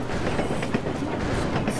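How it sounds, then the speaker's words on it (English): A train rolls along rails in the Fistful of Frags video game, a steady rumbling clatter with dense rhythmic clicks, moderately loud and continuous throughout. "I'm on the train, by the way."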